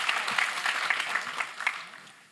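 Audience clapping at a GOVIS 2018 conference panel for Aaron McDonald, a brief round of scattered hands, moderately near, tapering off toward the end.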